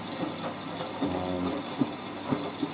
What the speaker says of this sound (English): Hey, deep level, second rinse. This is the additional rinse.